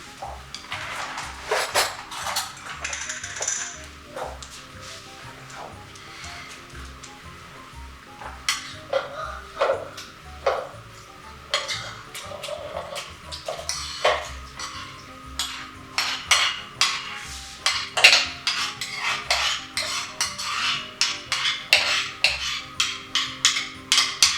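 A spoon scrapes and clinks against a pan while stirring cooked-down vegetables for an eggplant pizza, with irregular metallic taps and soft scraping spread across the stretch, fairly quiet in a kitchen.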